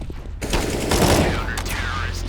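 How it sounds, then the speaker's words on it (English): Gunfire in CS:GO during a Starladder Berlin 2019 pro match, M4 rifle bursts rattling out in dense, fairly loud volleys across the whole stretch, with caster commentary running over the shots. "Another double kill from Breezy to wrap things up."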